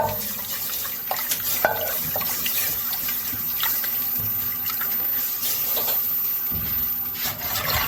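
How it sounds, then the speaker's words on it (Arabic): Three cups of milk pour into a béchamel, a steady splashing liquid stream with small clinks and stirring noises, close and continuous with no talk over it. "هنزل بقى ب3 كوبايات لبن واقلب كويس جدا"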